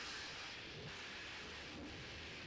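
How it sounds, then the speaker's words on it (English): Steady rain beats against window panes in a continuous hissing wash, with a low rumbling undertone like distant thunder, faint and unbroken throughout. "Rain pattered dismally against the panes."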